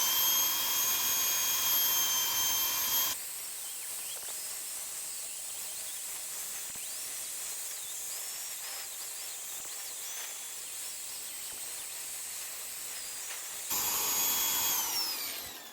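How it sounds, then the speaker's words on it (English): A rotary wire brush spun by an old electric drill scours a Scott Flying Squirrel motorcycle wheel hub, a steady loud whirring hiss that drops to a quieter, rougher scrubbing through the middle before the full-speed whine returns near the end. "so I could get in there with a rotary wire brush on the old electric drill"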